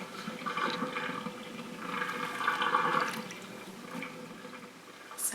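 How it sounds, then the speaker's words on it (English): Water drains from a kitchen sink with a steady gurgling, rushing flow that swells and fades over several seconds, heard close and alone. "we're just going to drain this water, rinse out the sink"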